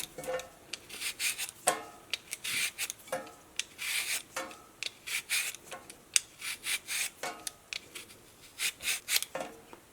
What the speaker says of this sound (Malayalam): ഈ ഉരുളക്കിഴങ്ങ് നമുക്ക് ഫസ്റ്റ് ഇതിൻ്റെ തൊലി കളഞ്ഞിട്ട് ഇത് നല്ല കനം കുറച്ചിട്ട് നമുക്ക് കട്ട് ചെയ്തിട്ട് എടുക്കാം